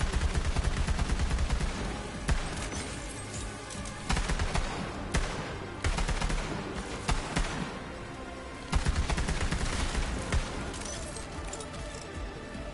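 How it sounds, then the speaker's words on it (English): Revolver gunfire in the video game Borderlands 3 sounds as rapid bursts of loud shots and impacts, repeated in clusters over a dense game soundscape, with a voice talking in between. "See how a real man fires a revolver?"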